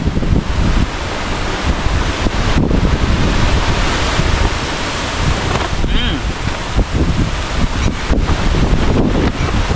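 Strong wind buffets a campsite beside San Roque Dam, a loud, constant roar across the microphone with gusty surges throughout.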